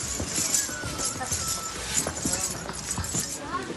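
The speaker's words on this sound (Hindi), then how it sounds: "अभी 7 किलोमीटर का रास्ता है, तो एंजॉय करते हैं हॉर्स राइडिंग का।" Horse hooves clip-clop along the Vaishno Devi pilgrimage path near Katra, a quick uneven series of close hard taps.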